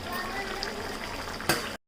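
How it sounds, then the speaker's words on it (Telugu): Gongura chicken curry simmering in a pan, a close continuous bubbling hiss with a brief louder knock near the end. "చూసారు కదా చికెన్ అయితే ఎంత బాగా ఉడుకుతా ఉందో"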